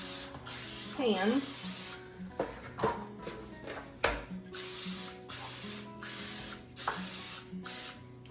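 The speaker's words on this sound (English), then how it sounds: "Now I'm gonna take some olive oil spray here," Several short hissing bursts of an olive oil cooking spray can coating a baking dish, close and crisp, repeated in a loose rhythm while a person talks.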